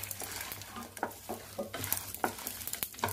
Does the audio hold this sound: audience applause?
no